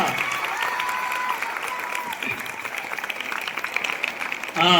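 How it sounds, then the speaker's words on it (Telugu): Children clapping at a Sankranthi celebration at Andhra University, a dense steady patter of many hands filling the whole stretch, with voices faintly underneath and a brief louder burst near the end. "వారికి మా పిల్లలందరూ కూడా గట్టిగా వినపడేట్టుగా సాగర్ నగర్ వినపడేట్టుగా క్లాప్స్ కొట్టమని మనవి చేస్తున్నాను"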